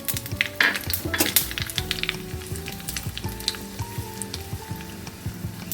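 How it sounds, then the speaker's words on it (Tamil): Mustard seeds, chana dal, urad dal and dried red chillies temper in hot oil, a dense continuous sizzle with scattered pops and crackles and a few clinks of a pan, loud and close. "கடுகு பொரிஞ்சதும் கடலப்பருப்பு உளுத்தம்பருப்பு போட்டுக்குவோம்"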